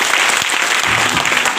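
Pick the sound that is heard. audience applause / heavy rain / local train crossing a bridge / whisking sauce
audience applause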